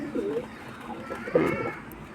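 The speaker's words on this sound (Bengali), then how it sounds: "এই যে সব পায়রা আছে এখানে।" Punjabi Mal pigeons coo from close by, soft throaty calls coming in two short bursts, the second louder, over a quiet background.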